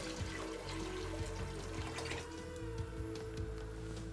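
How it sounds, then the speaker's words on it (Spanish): Water poured steadily into a soup pot holding cabbage for Frankfurt soup, a second litre added after the first, trickling and splashing continuously at close range with no talk. "Ya tenemos 1 litro dentro, vamos a colocar el segundo litro"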